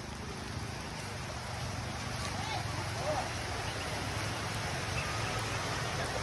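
Steady, continuous rain hiss with a low rumble underneath, constant and fairly loud throughout, no distinct voices standing out.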